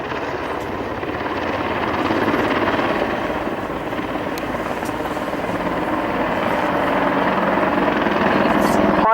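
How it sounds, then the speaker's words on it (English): An Apache attack helicopter banks through a 360-degree wingover, its rotor and engine producing a loud, steady, thrumming roar that swells slightly as it continues. "you see the aircraft conducting a 360-degree wing over as it goes to set up itself once again"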